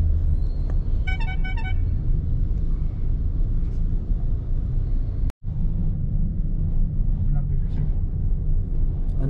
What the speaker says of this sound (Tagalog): So medyo traffic lang dito.